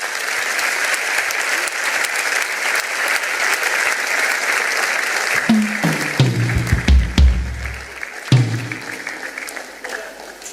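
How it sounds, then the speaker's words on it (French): A church congregation applauds Pastor Chris at a worship service, sustained loud clapping from a crowd that carries on steadily for several seconds before thinning into scattered claps and low voices. "On peut acclamer le pasteur Chris."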